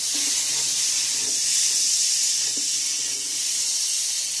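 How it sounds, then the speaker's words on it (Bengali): Potatoes and pointed gourd fry with spices in a pan, giving a steady close sizzling hiss throughout with faint clinks underneath. "মশলার সঙ্গে ভালো করে ভেজে নিয়েছি আলু পটলগুলো"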